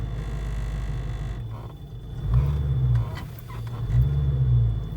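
A Ford Foxbody engine idling in drive with a fuel trim fault, a low steady rumble that twice surges and sags as the car bucks under load, with no talking.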